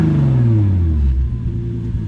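Lexus SC300 engine, recently revived after sitting for months on old siphoned gas, revving loudly up close then sinking from a high whine into a deep rumbling idle.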